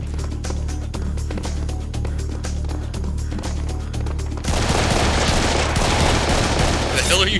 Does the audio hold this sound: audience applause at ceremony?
no